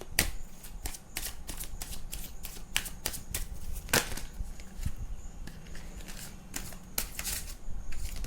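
Tarot cards are shuffled in rapid, crisp riffles and flicks, a steady run of sharp papery snaps repeating close up for several seconds, with no voices.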